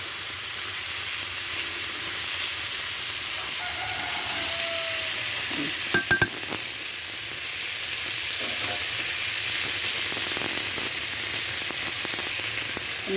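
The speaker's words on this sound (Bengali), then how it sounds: "আমি একটু ভেজে নেবো মাছ।" Magur catfish fry gently in hot oil in a pan, a steady soft sizzle running throughout with a few brief clinks of a utensil near the middle.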